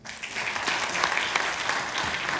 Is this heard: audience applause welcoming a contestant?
yes